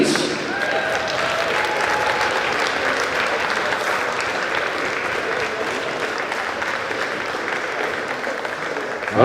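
A darts festival crowd keeps up continuous loud applause for a finalist, thick even clapping with faint voices mixed in, ending with a thump.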